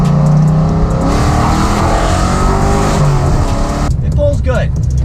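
A cammed 1999–2004 Ford Mustang GT, untuned, accelerates with a loud engine climbing through the revs, then an abrupt drop as the throttle lifts near the end, with a voice briefly audible under the roar.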